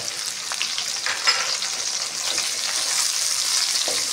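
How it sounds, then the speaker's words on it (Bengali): Onion fries in hot oil with a steady, bright sizzling, continuous and close, with no voices. "পেঁয়াজটা হাফ ভাজা হলে ক্যাপসিকাম দেব"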